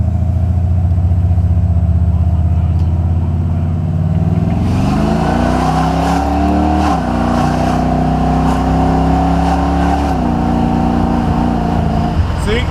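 Buick 455 Stage-1 Regal T with a fuel pressure drop under acceleration, its V8 droning low then climbing in pitch under hard throttle through a gear change, loud from inside the car.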